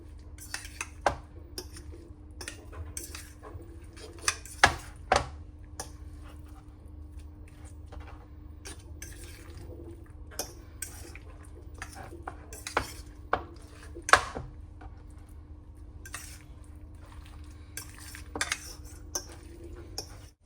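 Shrimp being stirred into tempura batter in a bowl: soft scraping and repeated clinks of a utensil against the dish, quiet and irregular, with a faint steady hum behind.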